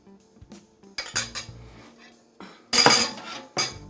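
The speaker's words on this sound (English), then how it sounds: "I take my spoon and I push my blueberries out to the side" Metal spoon scraping and clinking against a plate as blueberries are nudged aside on a lemon blueberry cheesecake, a few short taps and scrapes separated by quiet gaps.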